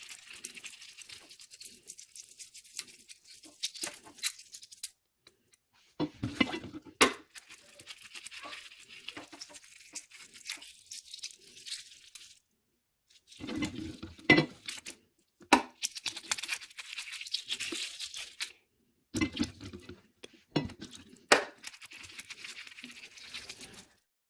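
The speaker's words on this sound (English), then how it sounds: "Just wash it off a little bit water so it's clean and perfect" Hard-boiled eggs are rinsed under running water in bursts, splashing and pattering close by with short pauses between, and small knocks of the eggs.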